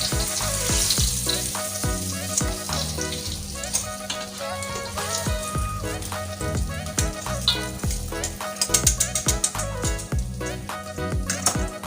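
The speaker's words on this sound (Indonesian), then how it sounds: "Ayo lanjut yuk, langsung kita goreng" Oil sizzles and crackles continuously as battered gourami fish fries in a pan, with scattered pops and the occasional scrape of stirring, close and steady.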